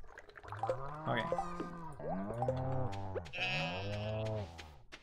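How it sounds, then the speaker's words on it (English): Cows on a Stardew Valley farm moo in overlapping drawn-out calls, several animals lowing one after another with rising and falling tones, loud and close with no pause between them. "these cows and everything are so noisy"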